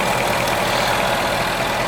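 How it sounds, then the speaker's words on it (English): A Jaguar XF Portfolio with a 5.0-liter V8 idles quietly at a steady, smooth low rumble under a constant hum, with no talk over it. "a very quiet running engine for a large enough V8 at 5-liter displacement"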